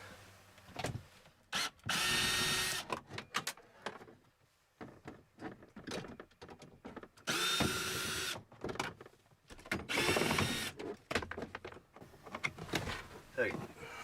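Power drill backing screws out of a minivan's interior panel during a camper conversion, with several short whirring bursts mixed among clicks, handling noise and someone talking nearby.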